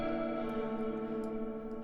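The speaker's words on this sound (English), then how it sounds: "This was the guitar." Sustained guitar chord drenched in heavy reverb within an electronic music production, a steady atmospheric wash with no attack or pauses, moderately quiet and alone.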